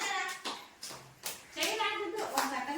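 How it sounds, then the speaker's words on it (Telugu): Children at an anganwadi clap during a Children's Day game, a few scattered bursts of hand claps mixed with small voices and shuffling nearby. "క్లాప్స్ కొట్టండి"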